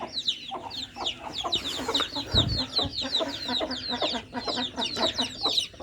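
A hen clucks repeatedly in a busy village farmyard, with chirping chicks and other fowl calling close by and a short low thump partway through.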